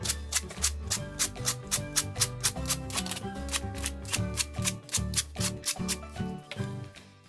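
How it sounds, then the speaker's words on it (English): Sandpaper is rubbed by hand over a wooden frame during decoupage work, making close, brisk, rhythmic back-and-forth scratches that repeat evenly with no talking. "I might need to sand it a little more here as well."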